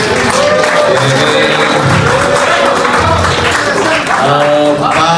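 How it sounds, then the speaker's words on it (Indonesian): Audience at a city government media gathering with journalists applauding loudly and continuously, a dense wash of clapping with voices and music-like tones mixed in throughout. "alhamdulillah ini terima kasih, tepuk tangan"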